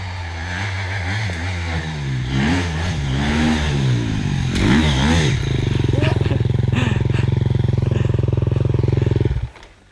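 A motorcycle engine revs up and down repeatedly up close, rising and falling whines giving way to a loud sustained roar that cuts off abruptly.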